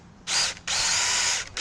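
A power drill bores into the trunk of a large dead oak during a tree climb and removal, whining loudly in two long bursts separated by a short pause, then starting again.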